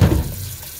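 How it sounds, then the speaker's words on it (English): Tap water pours into a bowl while homemade butter made from raw cow's milk is washed, a loud splashing gush at first that quickly settles into a softer running trickle; no talking. "And so I just get some water in there."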